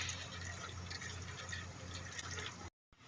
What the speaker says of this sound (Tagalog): tumutulo na siya